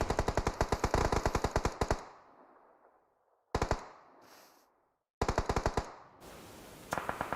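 Automatic AK rifle fire in the mobile battle royale game PUBG Mobile, with rapid loud bursts of shots, a pause, a single shot with ringing decay, then another fast burst, all close and without voices.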